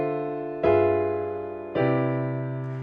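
Two sustained piano chords struck a little over a second apart, each ringing out and decaying cleanly, a jazz voice-leading move between extended chords heard up close and alone.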